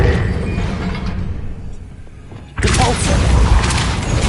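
A spell cast in Hogwarts Legacy, the summoning charm Accio, heard as a sudden loud whooshing burst of magical energy that swells and sustains after a quieter stretch of ambient game sound.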